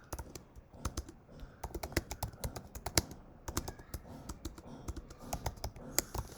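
Close, quiet clatter of a computer keyboard as code is typed, a fast irregular patter of sharp key clicks with brief pauses between bursts.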